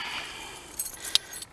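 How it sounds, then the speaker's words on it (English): Keys jangle in short metallic bursts while unlocking the door of a Rover P6, with a few bright clinks near the end against quiet background noise. "I'll unlock this door a minute with the key"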